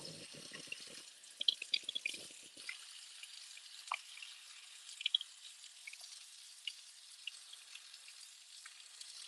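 Water running from a kitchen tap to measure for yeast rolls, a steady soft hiss with some gurgling bursts early on and small splashy crackles, fairly faint and with no talking.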